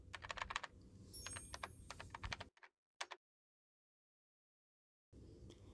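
Someone types a domain name on a computer keyboard at a Windows command line: a quick run of close, clicky keystrokes, then a pause, a couple of isolated taps and more silence before typing resumes.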